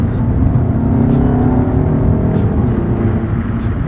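A Volkswagen GTI pulls hard in third gear, its engine note loud, steady and continuous from start to finish with a faint rising tone as it gains speed, no voices over it.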